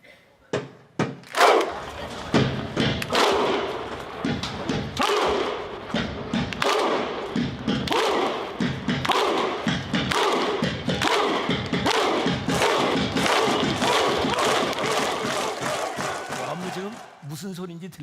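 Stadium crowd performing the Viking thunderclap chant, booming unison claps with a grunted huh, repeated at a steady, quickening rhythm, loud and reverberant.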